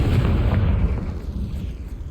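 A Bombarda spell explosion in the video game Hogwarts Legacy: a loud, deep booming blast with a rumbling low-end tail that slowly fades over about two seconds, heard alone with no talk.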